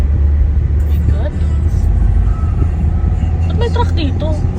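A heavy truck rumbles past on Kennon Road, a steady low engine drone and road noise filling the scene throughout, with faint higher mechanical squeaks layered over it.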